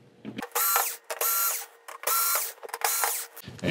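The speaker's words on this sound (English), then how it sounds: "we're going to use our screw gun to get these four screws out" A screw gun backs screws out of an LG 43UM6910PUA TV: four short whirring, ratcheting bursts separated by brief pauses, loud and close.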